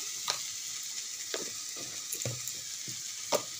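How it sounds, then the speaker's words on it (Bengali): Spice masala with turmeric and salt fries in a pan, a soft steady sizzle broken by a few sharp stirring scrapes and clicks, close and with no talking. "এটা মশলাটাকে ভালো করে কষিয়ে নেব"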